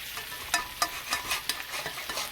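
Cooked rice pushed around a frying pan with a spatula alongside spicy garlic shrimp and vegetables, giving a steady sizzle broken by several short scraping strokes at an even pace, close and moderately loud.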